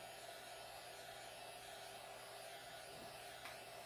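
A heat gun blows hot air over a 3D-printed Notos handguard. It makes a steady, close electric whir and airflow hiss that holds constant throughout.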